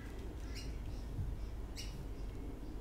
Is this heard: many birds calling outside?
yes